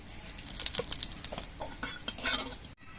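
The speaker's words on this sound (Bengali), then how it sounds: "তেলের মধ্যে দিয়ে দিচ্ছি অল্প একটু গোটা জিরে" Whole cumin seeds hit hot mustard oil in a wok, giving a steady close sizzle broken by sharp metallic clinks and scrapes of a utensil stirring, ending abruptly.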